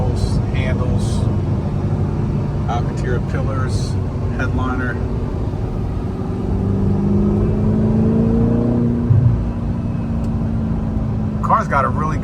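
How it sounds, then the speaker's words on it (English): An Audi R8 with upgraded exhaust and intake hums and revs, its engine rising and easing in a steady drone, with people talking over it. "car's got a really good tone for a daily driver. I mean, it doesn't have any drone, just enough exhaust note to know you have something there."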